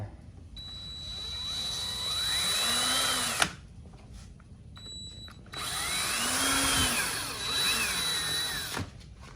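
Two long bursts of a power drill boring through ATV plastic, pitch rising and falling as the bit bites, separated by a brief pause and a few clicks.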